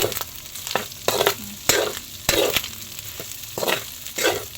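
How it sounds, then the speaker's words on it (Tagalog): Meat sautéing in a pan as a base for Filipino mung bean stew, with a steady sizzle broken by repeated scraping and stirring strokes, close and fairly loud. "Ay ginigisa ko po muna itong lahok na karne."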